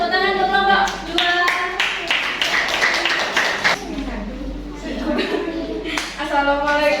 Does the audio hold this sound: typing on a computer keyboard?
no